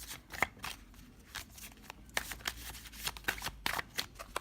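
Tarot or oracle cards being shuffled by hand to draw an advice card: a quick series of close, crisp riffling and slapping bursts in an irregular rhythm, quiet and with no talking.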